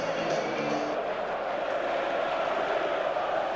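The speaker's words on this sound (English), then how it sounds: "Well, that's really got the crowd going now." Stadium crowd roaring after an equalising goal in the football video game FIFA 15, a steady dense wash of cheering that stays loud and continuous throughout without letting up.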